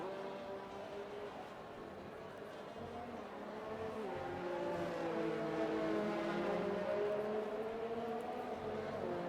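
Several F1 2020 race cars drive through turns 7 and 8 on a wet track in the video game, their engines whining steadily with rising and falling pitch and growing slightly louder midway, with no talk.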